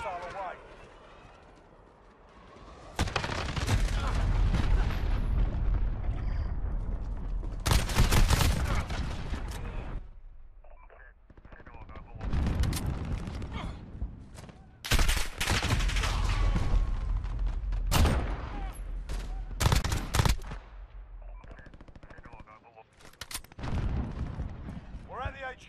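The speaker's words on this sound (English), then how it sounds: "Allied cruise missile away." A cruise missile strike in Call of Duty Modern Warfare multiplayer lands as several loud, heavy blasts and rumbling bursts, separated by quieter gaps, with game voices heard faintly between them.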